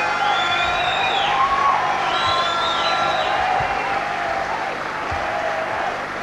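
Stadium crowd at a 1990 New Zealand versus Australia Test cricket match applauds and cheers continuously, dense clapping and distant whoops holding at a steady loud level throughout.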